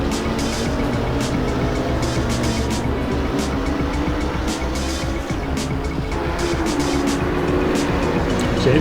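Nissan GTR GT3 race car engine in Assetto Corsa at Zandvoort, a continuous loud, strained engine roar with hints of tire noise and other cars, steady throughout.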